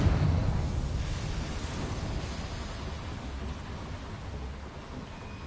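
A Confringo fire curse in Hogwarts Legacy bursts into a loud, dense explosive roar that opens strongly and then settles into a sustained crackling rumble, with no voices.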